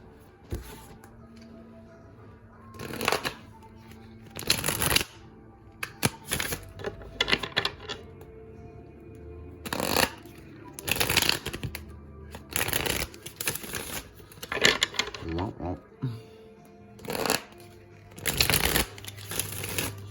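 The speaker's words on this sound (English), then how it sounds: "Let's go ahead and get into some shuffling and see what we've got here" Tarot cards being shuffled in repeated bursts of crisp riffling and flapping, with short pauses between shuffles, close and fairly loud, no talking.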